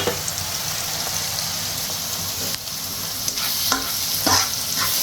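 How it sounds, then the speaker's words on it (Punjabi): Butter sizzling in a pan on the stove, a constant close hiss with faint stirring clicks, no voice present. "ਇੱਕ ਪੈਨ ਦੇ ਵਿੱਚ ਹੁਣ ਇੱਧਰ ਪਾਵਾਂਗੇ ਬਟਰ"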